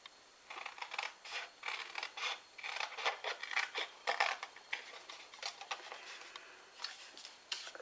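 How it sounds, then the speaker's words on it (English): A small piece of wood for a mini gift box is being notched and cut away with a hand tool, giving faint, rapid rasping and scraping strokes in steady bursts. "notch that down to there, and cut this whole piece here away"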